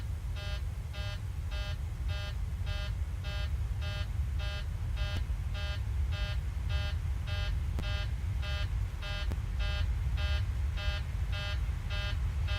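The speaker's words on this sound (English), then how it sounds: "I've not seen this alarm before" Cockpit warning in a Boeing 737-700 in Microsoft Flight Simulator 2020, a rapid, even series of electronic beeps repeating steadily over a low engine rumble.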